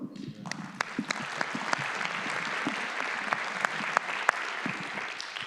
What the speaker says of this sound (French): Je voudrais juste les applaudir.